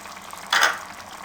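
Green chili and ginger paste hit hot oil in a karahi, giving a short, sharp burst of sizzling that flares up and fades within half a second over a quiet background.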